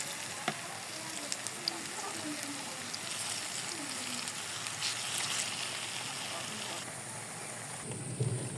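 Palm fruit fritters (taler bora) frying in hot oil, a steady close sizzle scattered with small crackles and pops, and a low voice briefly underneath.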